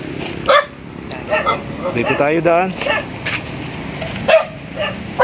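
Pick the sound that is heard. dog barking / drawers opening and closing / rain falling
dog barking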